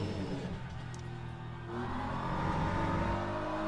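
Hypercar engine in an arcade racing video game, a continuous mid-pitched engine drone that swells and revs higher partway through, steady and close.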